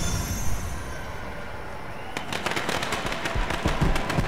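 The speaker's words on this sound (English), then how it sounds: "Fireworks everywhere." New Year fireworks, a low outdoor rumble at first, then a rapid burst of cracking, popping explosions going off all around at varying distances.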